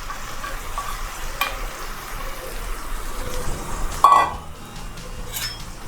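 Bay leaf, cinnamon, cloves, asafoetida, green garlic and green onion frying in oil for Gujarati tuver na thotha, a soft steady sizzle with a spoon stirring and a sharp clink against the pan near the end.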